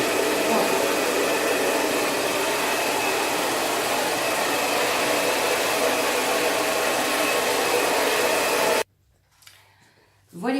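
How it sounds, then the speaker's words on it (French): A hair dryer blasts steadily and loudly at close range while drying hair at home during a Brazilian straightening treatment, then cuts off near the end, leaving quiet room sound. "vous montrer comment marche un séchage de tête."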